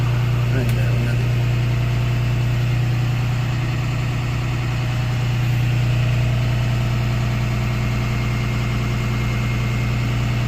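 School bus engine running at a fast idle, a steady loud diesel drone with a strong low hum and constant vibration that never changes over the whole stretch.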